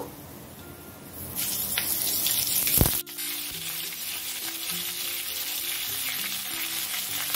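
Black cumin and radhuni seeds sizzling in hot oil as a tempering for lentil dal, then lentil dumplings dropped in with a sharp burst that gives way to a loud, steady frying hiss, up close.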